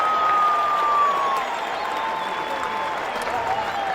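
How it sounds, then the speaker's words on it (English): Crowd at a college baseball game between Florida and Ole Miss rises in a standing ovation, sustained applause and cheering filling the stands at steady volume, with a faint whistle-like tone drifting over the roar. "He's getting a standing ovation from the crowd."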